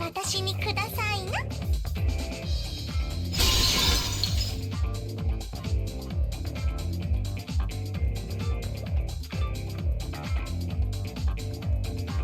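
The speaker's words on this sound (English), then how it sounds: "The sound of breaking glass is accompanied by a light cutting through the gloom." Glass shatters loudly in the Fate/Extra video game, a bright crashing burst about three seconds in, set against continuous game music.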